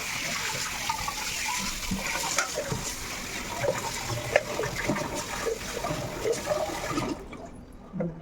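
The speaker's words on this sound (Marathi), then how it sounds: "हे मुळे घेतले चांगलं स्वच्छ पाणी वॉश करायचं" Running water splashes steadily as radishes are rinsed, with small knocks and sloshes, then the flow stops abruptly near the end.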